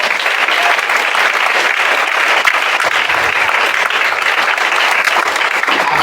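Steady, dense applause from a congregation at a Sunday church service, loud and continuous throughout with no pauses, a full crowd clapping together.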